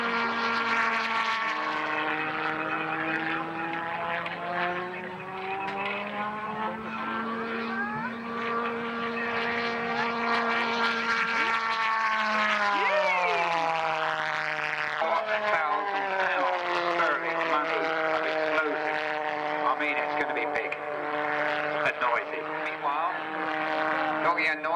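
At an airshow, a model aircraft engine weighing 2 3/4 pounds drones with a steady, tonal whine that slowly shifts pitch as the plane flies past, while a commentator talks over it.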